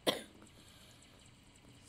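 A single short, close cough bursts out at the start, then the room goes nearly quiet apart from faint background noise, with another brief sharp catch at the very end.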